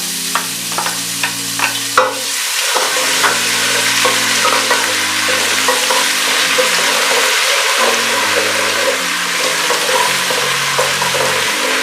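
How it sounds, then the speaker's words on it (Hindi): Ginger garlic paste hits hot oil in a pot and sizzles and crackles steadily while it is stirred, with spoon scrapes and bubbling throughout. It is close and fairly loud, and no one speaks. "अब हमने आधा कप हमने तेल डाले, वो गर्म हो चुका है। अब इसमें लहसुन अदरक का पेस्ट डालेंगे।"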